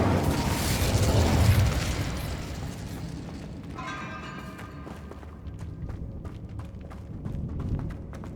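A fiery spell burst in Hogwarts Legacy: a loud broadband whoosh and boom at the start that fades into a crackling, rumbling tail with scattered ticks, ending in a softer swell.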